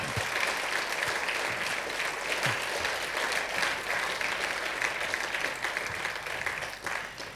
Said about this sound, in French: je veux qu'on les applaudisse